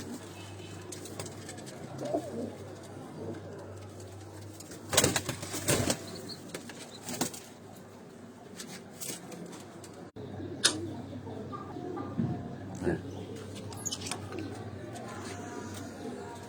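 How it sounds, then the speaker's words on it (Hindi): Sialkoti breeder pigeons in a loft give low, soft coos, and wings flap now and then. A steady background hum runs underneath, with scattered bumps and rustles, and the sounds are fairly faint overall. "ये कबूतर मलक साहब के ये जो कबूतर हैं सियालकोटी स्टाफ के जो कबूतर ये बैठे हुए हैं"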